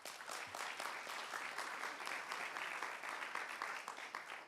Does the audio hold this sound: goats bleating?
no